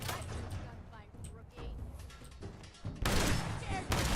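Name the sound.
shotgun fire in video game Fallout 4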